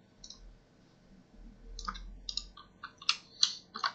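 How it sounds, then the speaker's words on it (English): Computer keyboard keys pressed while building a park in the Planet Coaster game, a run of separate sharp clicks that grows denser and louder toward the end, alone without speech. "pressing all the wrong keys here."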